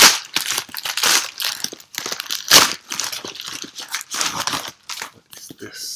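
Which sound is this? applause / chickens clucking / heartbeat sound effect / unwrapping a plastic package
unwrapping a plastic package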